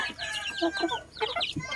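Hubbard chickens in a homemade DIY coop cluck and chatter in quick, overlapping calls close by, several birds sounding at once in short bursts with no voices.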